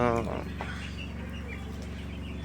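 Ten-day-old broiler chicks cluck softly at close range under a steady low hum, with a brief voice near the start.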